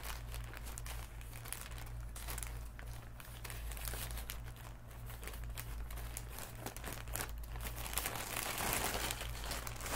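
Plastic packaging from a Temu parcel crinkles and rustles close up as it is torn open, continuous irregular crackling over a low steady hum.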